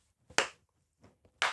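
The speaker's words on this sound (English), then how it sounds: "Can you clap with me?" Sharp hand claps in a children's rhythm-and-rhyme clapping exercise, two strong claps with softer ones between, close and dry with silence around them.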